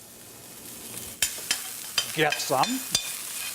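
Garlic and chili flakes sautéing in a pan, a soft sizzle under sharp clicks of a utensil against the pan, with a few spoken words from a nearby voice.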